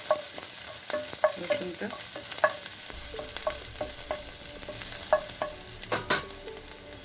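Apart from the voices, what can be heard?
stirring thinly sliced garlic in a pan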